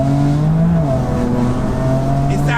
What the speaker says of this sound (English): So straight away you can probably tell by the sound of the exhaust.